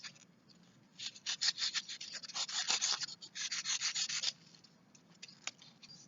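Hand sanding of a 2 cm thick styrofoam triangle to round its corners, heard as close, dry rubbing strokes in irregular bursts, strongest in the middle, with no talking.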